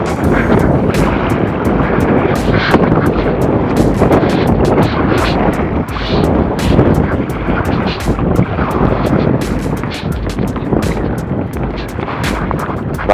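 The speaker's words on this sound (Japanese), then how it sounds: "爆風。" Strong gusting wind off the mountains buffets a kayak at sea, a loud, continuous roaring rumble filling the whole stretch with no speech.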